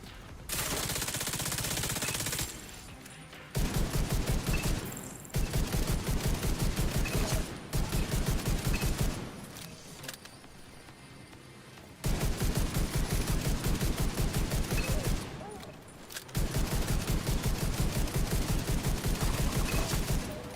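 Sustained automatic gunfire in a shooter video game against heavily armored hostiles, loud and close, coming in long rapid bursts separated by short pauses.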